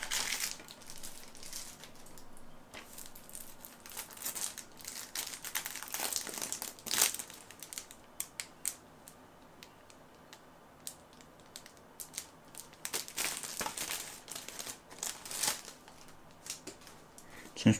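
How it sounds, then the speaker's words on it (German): Crinkling plastic wrap being peeled off a boxed Anthem PS4 video game, with bursts of crackling and rustling spread across the clip at a close, fairly quiet level. "Ich liebe es, das Spiel auszupacken."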